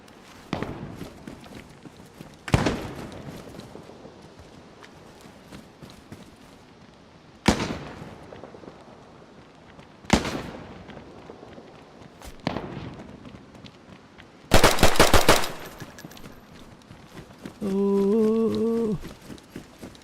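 Gunshots in the survival video game DayZ, with several sharp cracks spread across the stretch and a louder burst of rapid shots near the end, followed by a brief tonal in-game sound.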